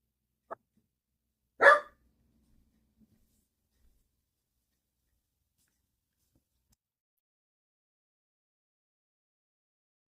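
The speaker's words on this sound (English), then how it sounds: "Why are you barking?" Bandit, a pet dog, gives a single short bark indoors, preceded by a faint tap, then quiet.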